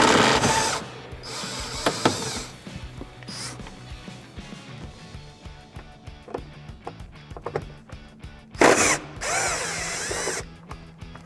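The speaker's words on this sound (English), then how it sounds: "Now I'm gonna use my impact gun." An impact gun drives a T50 Torx bolt on a Mustang seat belt mount, giving loud bursts of rattling whir separated by short pauses, with clanks from handling the tool and parts.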